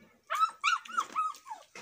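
A dog growling and grumbling in several short rough bursts, close and fairly loud, with whine-like rising and falling tones between bursts.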